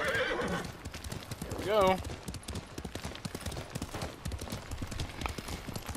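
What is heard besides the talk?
horse galloping hooves in video game Ghost of Tsushima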